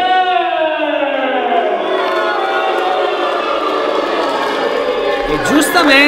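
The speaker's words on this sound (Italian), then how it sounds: "il pubblico, dopo essere stato insultato, riempie di fischi il signor Luca De Pazzi da Milano" A wrestling crowd whistles and boos at Luca De Pazzi from Milan, a dense sustained wall of shrill whistles and jeers filling the hall, with a louder burst near the end.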